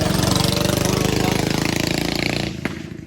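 A small block Chevy V8 in a 1972 Chevy Nova idling close up, loud and lumpy with a fast, even pulsing rhythm, then dropping away near the end after a sharp knock.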